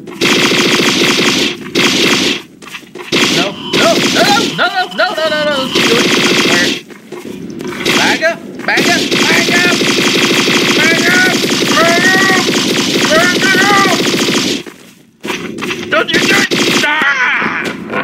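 Gunfire in the Garry's Mod video game, rapid bursts of game shots running nearly throughout at loud level, broken by short gaps, with a voice talking over much of it.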